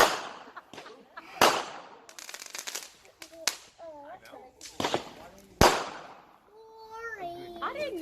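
A backyard fireworks show at the start of 2019 sends out scattered sharp bangs and crackling pops, some near and loud, mixed with people and children talking.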